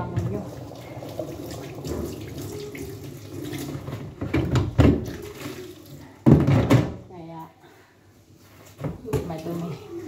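A household tap runs with a weak, uneven flow during laundry, splashing in bursts with clatters of handling, while someone talks intermittently.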